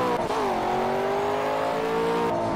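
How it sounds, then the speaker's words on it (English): Race car engine with a faint turbo in Project Cars, a loud sustained drone whose pitch dips slightly and then holds steady, continuous, with no talking. "I can still hear a faint turbo in it."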